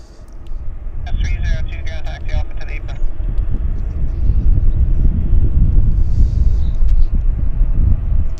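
A Pacific Coastal Beechcraft 1900C propeller plane rumbles steadily at an airport on a wet runway, the low drone building gradually louder, with wind noise and some talk over it early on.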